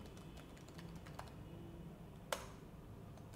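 Sparse, soft keystrokes on a computer keyboard in a quiet room, a few light taps scattered over a few seconds with one slightly sharper click, no talking.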